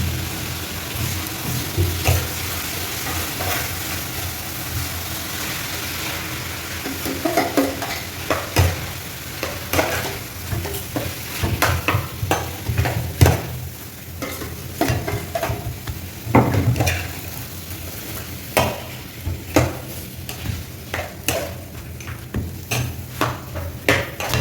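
Parotta fries in oil on a flat pan, sizzling steadily close up while a spatula scrapes and taps the metal in irregular bursts.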